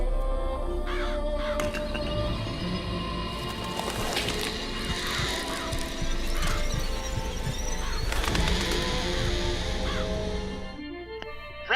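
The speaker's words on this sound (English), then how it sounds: "Press to summon murderous crows." Murderous crows from the Murder of Crows vigor in BioShock Infinite caw harshly in repeated bursts over dense game noise, with sharp crash-like hits scattered through and a busy, loud mix throughout.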